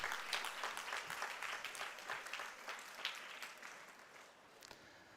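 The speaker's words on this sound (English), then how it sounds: "let's give a thunderous applause for all of them" Audience at a school investiture ceremony claps steadily for about five seconds, a dense patter of many hands that tapers slightly toward the end.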